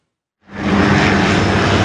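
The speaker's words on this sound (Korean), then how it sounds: "사드 부대원들의 생필품을 실은 군용 헬기가 성주 골프장 위에 내립니다." A military helicopter carrying supplies lands on a golf course in Seongju. After a brief silence, a loud, dense engine roar swells in and then holds steady.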